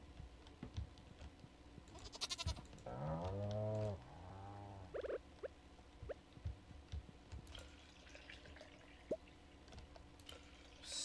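Goats on a farm in the video game Stardew Valley: a couple of wavering bleats in the middle, surrounded by soft clicky game sounds and light ambient noise, with no talking.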